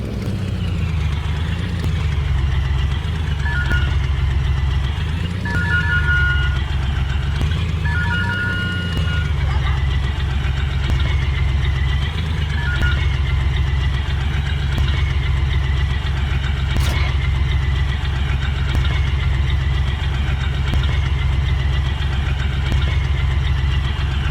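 Tractor engine in Farming Simulator 19 runs steadily throughout at a constant loud, low drone, with faint wavering tones and a brief beep-like chirp near the middle; no voices.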